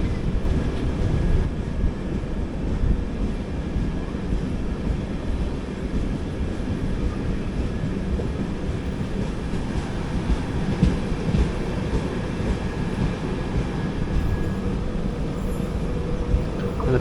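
The 16323 Coimbatore–Mangalore Express, hauled by an Arakkonam-based electric locomotive, roars past at speed with a continuous heavy rumble and wheel noise that stays loud and steady throughout, without talk.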